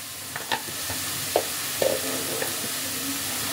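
Kashmiri chilli powder being stirred into radish frying in a pan, with a steady low sizzle and a few soft scrapes and clinks of the spoon against the pan.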